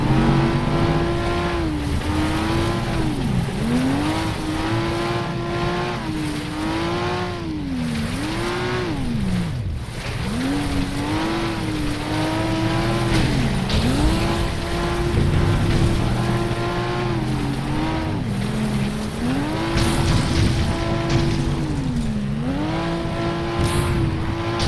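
Race cars in the FlatOut video game roar steadily for the whole stretch, with engines repeatedly revving up and dropping as gears shift. The sound is loud, continuous and close, with layered rival engines and no talk.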